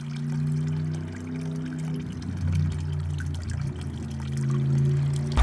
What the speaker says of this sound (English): I've been adding the water from the pond into this bucket also.